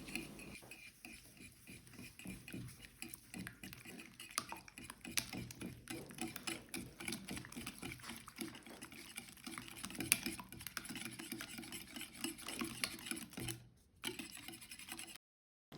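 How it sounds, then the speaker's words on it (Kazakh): Sugar and a little salt whisked together in a bowl with a whisk or fork for a pancake batter, giving steady, fast clinking and scraping strokes at close range, with no talking. "Үстіне қант салып және де кішкене мөлшерде тұз салып, осыны венчиктің көмегімен немесе шанышқының көмегімен жақсылап тұрып араластырамыз"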